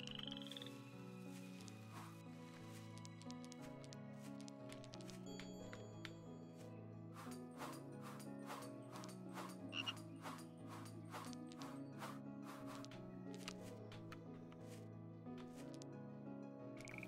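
Frogs croak steadily in Potata: Fairy Flower, layered over a looping melodic game soundtrack with a regular rhythm, rather quiet overall, with bright chime-like clicks scattered through.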